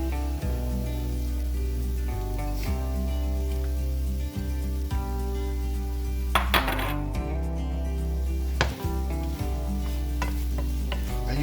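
Bitter melon and egg stir fry being stirred in a hot pan, with steady scraping and clinking of the utensil against the pan over a soft continuous sizzle and a background hum.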